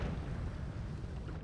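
A distant explosion in the Noita video game, a steady muffled low rumble that rolls on evenly for the whole moment, broad and heavy rather than sharp, with no voices over it.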